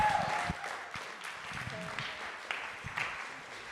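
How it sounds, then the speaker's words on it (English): Audience applause after a guest is introduced at a talk or church-style gathering, a steady patter of clapping at moderate level with scattered louder claps and some voices mixed in. "give Chris a round of applause"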